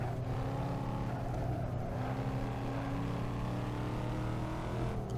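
Corvette C5 Z06 engine at steady high load on the Nordschleife in Assetto Corsa, a continuous loud droning note held throughout with no voices.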